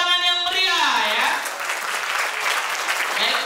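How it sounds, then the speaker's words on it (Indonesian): An audience claps warmly for a podcast speaker's introduction, with dense, steady applause rising after a voice fades out and continuing at full strength. "Mari kita sambut dengan tepuk tangan yang meriah ya"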